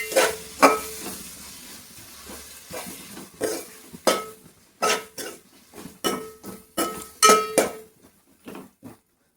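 Paneer biryani ingredients stirred in a pan with coriander powder and salt: a series of sharp spoon-on-metal scrapes and clinks in an irregular rhythm over a faint sizzle, close and fairly loud.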